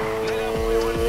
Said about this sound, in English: Start the drift, slam on the gas once and steer.